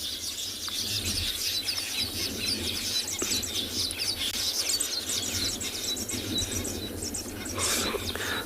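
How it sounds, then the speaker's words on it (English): Weaver birds at a sunrise safari in the Kalahari keep up a dense, noisy chorus of chattering and chirping calls that runs steadily throughout, with no talk. "I always like listening to these weavers."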